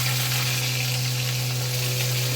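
Chopped tomato hits hot oil in a pan with lightly fried ginger, giving a loud, steady sizzle and crackle that continues without pause over a low constant hum, no voices.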